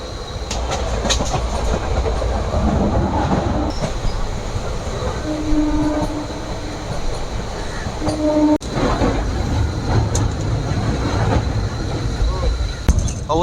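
A local train pulls into Sealdah station with a loud, continuous rumble and rattling wheel clatter, close and enveloping, with voices of passengers audible under the noise.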